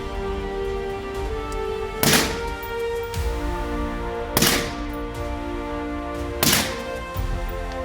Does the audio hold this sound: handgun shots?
yes